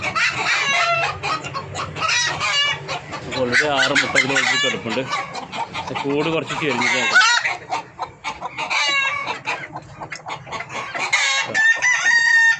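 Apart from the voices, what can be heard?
hens clucking in a coop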